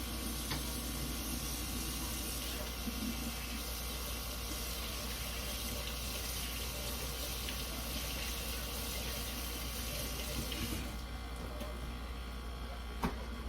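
A kitchen tap runs steadily for hands being washed at a sink, a continuous close water rush that drops away near the end, leaving a quieter hum.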